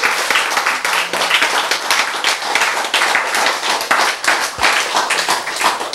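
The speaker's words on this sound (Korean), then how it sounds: "박수!" A lecture audience claps together in a dense, steady burst of applause that lasts several seconds.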